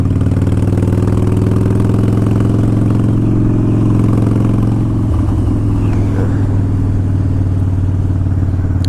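A 2005 Harley-Davidson Wide Glide on a test ride, its engine rumbling loud and steady with a low, throbbing clatter throughout, briefly shifting character midway as the ride continues.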